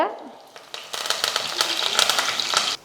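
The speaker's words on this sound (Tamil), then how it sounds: "சோம்பு நல்லா பொறிஞ்சு வரட்டும்" Fennel seeds crackle and splutter in hot oil, a dense close-up sizzling that starts suddenly and continues steadily.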